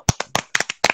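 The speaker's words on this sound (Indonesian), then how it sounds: "Kita beri tepuk tangan dulu untuk ke temannya yang sudah membaca" A small group in a classroom claps for a student who has just finished reading, a quick burst of sharp hand claps lasting about a second, close and clear.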